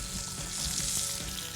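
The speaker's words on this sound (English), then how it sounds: "Flesh side down first, and the grill, you can just hear that really sizzling away." Marron halves sizzle flesh side down on a hot ceramic grill after a drizzle of olive oil, giving a steady close crackling fry with no talk.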